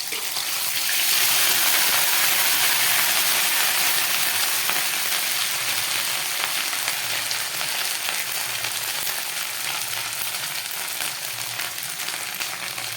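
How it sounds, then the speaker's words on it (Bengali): Ginger paste fries in a pan over low gas, giving a steady, even sizzle that holds close and moderately loud throughout with no voices. "গ্যাসটাকে একদম কমিয়ে এই আদাটা ভেজে নিতে হবে।"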